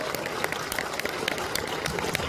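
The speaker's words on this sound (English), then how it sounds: "Round of applause for the first part of this panel." Audience applause at a fan convention panel with Daredevil: Born Again actors: a dense, steady wash of clapping from a large crowd that holds at even strength throughout, with sharp individual claps popping out of it.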